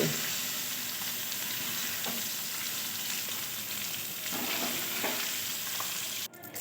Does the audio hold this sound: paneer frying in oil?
yes